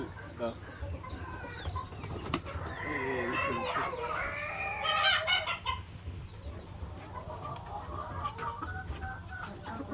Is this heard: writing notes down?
no